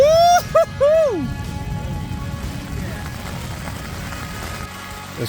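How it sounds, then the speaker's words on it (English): At a camp in the Sierra, dense, steady rain from a sudden downpour hisses across the whole clip, after a brief whooping voice at the start; the downpour continues without pause. "This rain just came on fast and hard"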